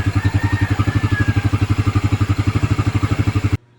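A repaired motorcycle engine idles close by, its rapid, even exhaust pulses thudding in a steady rhythm before cutting off abruptly near the end.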